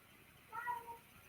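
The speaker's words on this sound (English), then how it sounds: "Oh, that's a cat, by the way." An indoor house cat meows once from another room, a short faint cry over quiet room tone with no talking.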